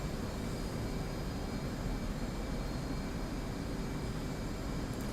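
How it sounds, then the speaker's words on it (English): An F/A-18C jet engine in the DCS flight simulator runs at full military power, a steady, dense roar without variation throughout. "Alright, power up. To full military power,"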